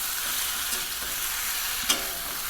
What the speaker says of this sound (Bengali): এটাকে আস্তে আস্তে করে এইভাবে নাড়তে হবে